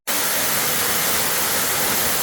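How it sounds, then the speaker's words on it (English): A waterfall in the Amazon rainforest roars close by, a loud, unbroken broadband rush of falling water that starts abruptly and continues steadily on its own. "So we are here at the waterfall. You can see it just falling down."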